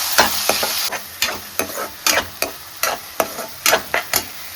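Cumin, onion and ginger fry in hot oil, a steady sizzle broken by regular scraping stirs of a spoon against the pan, close and fairly loud with no talking.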